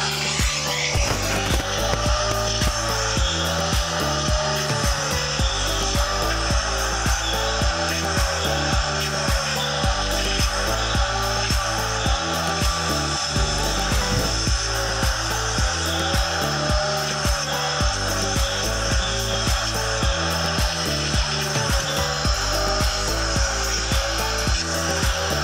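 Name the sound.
shop vacuum running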